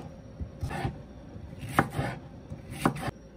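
Knife chopping halved cucumbers on a board, with a few distinct clusters of sharp cuts spaced about a second apart, close and moderately loud with no talking.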